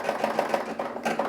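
A Brother SE 625 embroidery machine stitches a patch in white Madeira 1001 thread, its needle hammering in a steady, fast mechanical rhythm, close and continuous with no talking.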